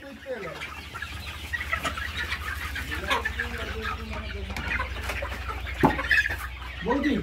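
Farm chickens cluck and squawk continuously at a poultry farm during Ranikhet disease vaccination of RIR hens, with agitated calls rising over a low constant hum and occasional indistinct voices nearby.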